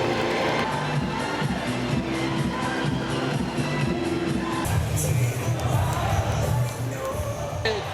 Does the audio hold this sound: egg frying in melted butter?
no